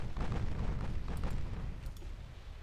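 Naval gunfire during a battleship and cruiser engagement in Ultimate Admiral: Dreadnoughts, heard as a dense, rumbling barrage of deep booms that fades slightly toward the end, with no voices.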